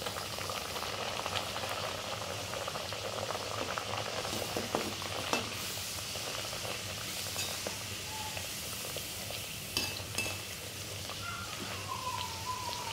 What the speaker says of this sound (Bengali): এখন আমি আরও একটা তোমাদের ভেজে দেখাচ্ছি।